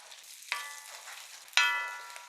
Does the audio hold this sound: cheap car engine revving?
no